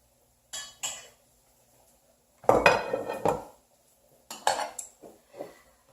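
Quinoa pattering into a cooking pot in three short bursts, each with a brief rattle and clink of metal, close and fairly loud against near silence.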